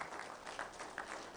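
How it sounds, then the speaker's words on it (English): Audience applause in a hall during a school district town hall on school safety, a steady patter of many hands clapping at moderate distance, brief and fairly faint. "give everybody a round of applause"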